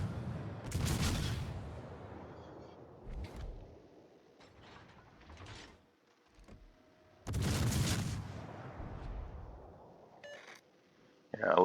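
Naval gunfire from a warship in World of Warships, with two heavy booming salvos rolling out and decaying, separated by quieter mechanical rumble and smaller distant blasts.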